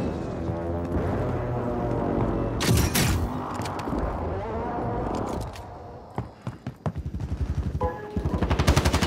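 Rapid gunfire in a live multiplayer shooter video game, dense bursts at first, then a run of sharp, evenly spaced automatic shots building toward the end.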